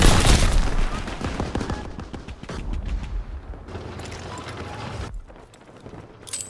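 Gunfire in the Call of Duty: WWII video game, set in a battle fought with an NZ-41 rifle, opening with a loud dense burst, then thinning into scattered mechanical clatter and sporadic cracks that fade toward the end.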